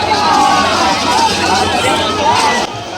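A dense festival crowd packs the Jagannath Puri Rath Yatra chariot procession, where devotees gather to pull the chariot ropes. It comes through as a steady, loud hubbub of many overlapping voices that drops slightly near the end.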